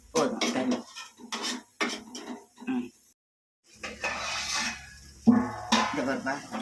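Metal dishes clank and scrape in a few sharp bursts, a plate set down to cover a pot of greens with water, with brief murmuring nearby.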